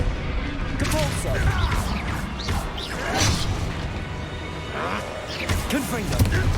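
Blast spells and combat in Hogwarts Legacy: a dense, continuous barrage of magical bursts, crashes and impacts layered over game effects, with a voice speaking intermittently through the action.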